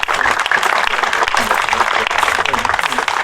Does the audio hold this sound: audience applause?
yes